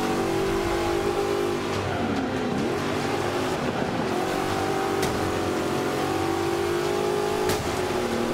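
Vintage American race car engines roar together in Forza Motorsport 5 on the Laguna Seca circuit, a dense, steady, loud drone of several motors with rising and falling pitch sweeps as cars rev and pass.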